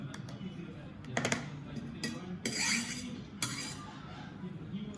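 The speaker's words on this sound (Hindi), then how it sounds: "फिर मैं ये मिक्स कर रही हूँ।" A spoon stirs strawberry crush into cream in a bowl, giving soft scraping with a few light clinks against the bowl, steady and close.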